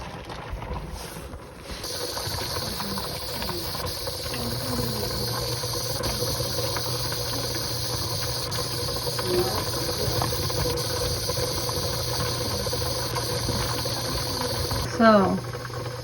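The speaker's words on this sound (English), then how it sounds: "You're getting steam on yourself here. This is steam, don't forget." A pressure canner processing boneless chicken breasts vents steam in a continuous, steady hiss that holds at an even level throughout, with a brief rise near the end.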